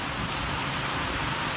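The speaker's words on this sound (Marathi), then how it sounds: "पाऊस लय जोरात चालला." Heavy rain pouring down during a visit to a Shiv temple, a dense, steady hiss of downpour filling the whole moment with no voices.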